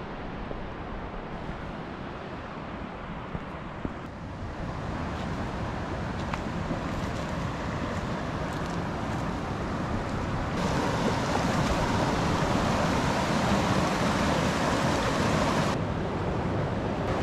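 A river at Jay Cooke State Park in fall rushes over rocks, producing a loud, continuous broadband roar that holds steady and grows slightly fuller toward the end, with no voices.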